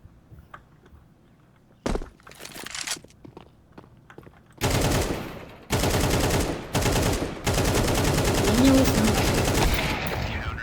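Video game gunfire comes first as scattered single shots and clicks, then gives way to long, loud, close bursts of rapid automatic fire that run nearly nonstop through the second half.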